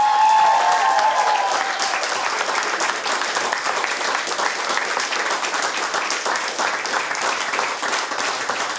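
Loud, sustained audience applause at a live song battle, dense clapping filling the whole stretch with a brief voice at the very start.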